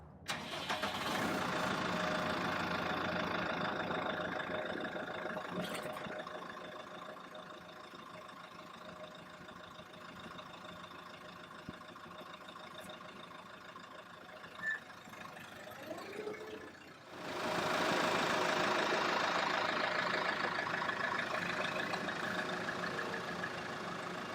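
A tractor engine idles with a steady mid-pitched rumble, dipping briefly before revving back up louder for the final stretch, while a skid steer quick connect is fitted.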